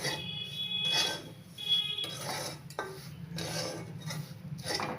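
Dried coconut and dry fruits stirred in a pan, repeated scraping and clinking strokes of a spoon against metal in an irregular rhythm, close and clear, no talk.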